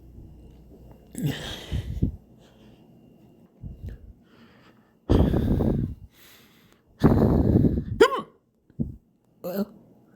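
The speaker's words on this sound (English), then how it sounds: "those are really loud." Loud, forceful hiccups come in strong separate bursts, some drawn out with breathy snorting tails, close by and with short quiet gaps between them.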